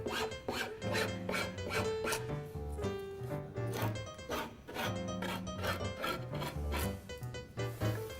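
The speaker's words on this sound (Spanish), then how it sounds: "vamos a proceder a refilar el excedente de cada" Excess laminate is trimmed from the edges of a particleboard furniture panel with a hand tool, a run of repeated rasping strokes in an irregular rhythm, close and fairly loud.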